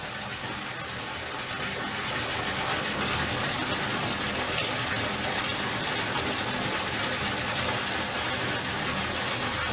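Water gushing steadily into a container while a bunch of wild garlic is washed, a continuous close splashing pour across the whole stretch with no talking.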